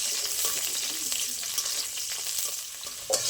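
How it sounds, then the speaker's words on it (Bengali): Peeled garlic cloves frying in hot oil, a dense steady sizzle up close with faint stirring scrapes and a sharper tap near the end. "রসুনটা একটু ভালো করে ভেজে নেব।"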